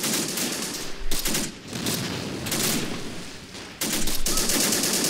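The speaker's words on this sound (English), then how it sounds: "I'm going to move one of these guys without ammo onto the machine gun. The heavy MG." Heavy machine gun fire in the World War II game Men of War Assault Squad 2, Battle of the Bulge setting, with loud sustained rattling bursts broken by short pauses.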